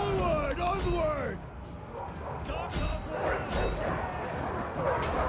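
Dogs barking in Total War Arena battle, a few yips and barks early on over a busy din of combat, with someone talking throughout.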